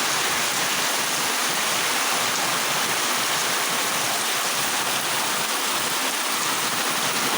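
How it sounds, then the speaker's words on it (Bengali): Heavy monsoon downpour over a village with flooded roads, a loud, dense, unbroken roar of rainfall filling the whole scene with no talk. "দেখেন প্রচুর বৃষ্টি হচ্ছে"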